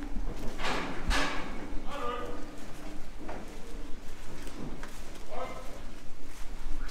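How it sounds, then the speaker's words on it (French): A farmer shouts to drive a group of cows toward the robotic milking stalls on a large dairy farm, giving several short cries at some distance among faint clatter and background noise. "vous entendez peut-être quelques cris derrière, en fait c'est l'exploitant qui est en train de rentrer un lot de vaches pour qu'elles aillent à la traite"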